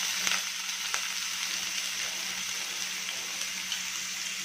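Finely chopped onion sautés in a pan with a loud, even hiss and crackle throughout, marked by a few faint taps of the spoon.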